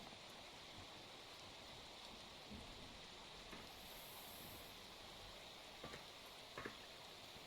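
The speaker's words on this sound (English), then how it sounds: "Is this rain too loud?" Rain ambience in the stealth video game Thieves and Heirs: a steady, soft hiss of falling rain fills the whole stretch, with a few faint taps and drips rising briefly near the end.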